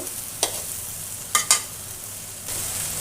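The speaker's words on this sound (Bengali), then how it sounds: "আর একটু তেল দিয়ে দিচ্ছি, সরষের তেল" Mustard oil hisses softly in a pan, with a few sharp splashes and crackles as more oil is poured in, followed by a steadier sizzle at the end; no one speaks.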